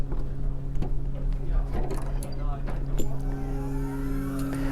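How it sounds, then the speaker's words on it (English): A steady mechanical hum from air conditioning aboard an Azimut S6 Sportsfly yacht drones on throughout, with faint clicks and rustles over it. "I do apologise for the noise. I think the air conditioning is running at the moment."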